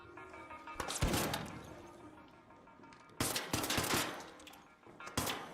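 Video game gunfire, with bursts of loud automatic shots and crashing impacts in several waves, close and harsh, separated by brief lulls.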